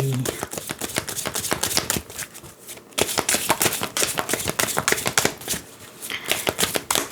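Oracle cards shuffled by hand for a reading, with fast, crisp riffles and flicks repeating in dense bursts close to the ear, with only a brief pause partway through.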